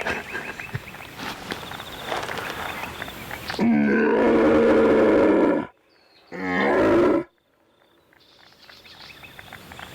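A red deer stag roars in a rutting setting where the call echoes: two loud, deep, guttural bellows, one long and one shorter after a brief gap, rising from quieter rustling and ambient wildlife noise.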